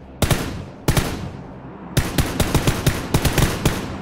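Gunfire in PlayerUnknown's Battlegrounds: two sharp single shots about half a second apart, a pause, then a rapid burst of about eight close, loud shots, each cracking over a low rumbling tail.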